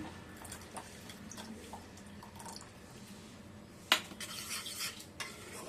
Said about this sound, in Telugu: ఇలా బాగా మిక్స్ చేసుకుంటూ ఉండాలి అడుగంటకుండా మిక్స్ చేసుకోవాలి